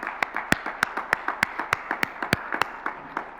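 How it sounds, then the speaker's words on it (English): Audience clapping at the close of a conference session, a sparse run of individual claps in a steady uneven rhythm, fairly close and moderately loud, with no talk over it. "So please clap for yourself and your person sitting next to you."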